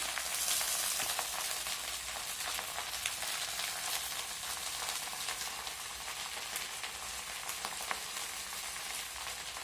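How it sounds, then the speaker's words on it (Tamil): Puliche keerai greens sautéing in hot sesame oil, a dense, continuous crackling sizzle like steady rain, close and even throughout with faint stirring, no talk. "நல்லெண்ணெய் ஊற்றி சூடானதுக்கப்புறம் இந்த கீரையை போட்டு இப்போ வணக்கிட்டுருக்குறேங்க"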